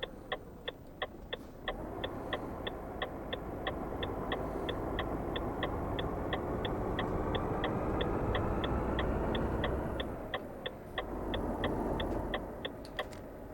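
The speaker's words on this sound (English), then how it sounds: "I even like the indicator noise." The turn indicator of a Renault T truck in the Euro Truck Simulator 2 video game ticks in a steady, even rhythm over about a dozen seconds, crisp and clear above a low, constant engine drone.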